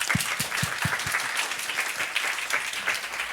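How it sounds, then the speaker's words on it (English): Audience applause at a marketing talk before a lunch break, brisk, dense clapping from a moderate crowd, with a few distinct low thumps of nearby hands early on and steady clapping throughout. "Let's give a big applause."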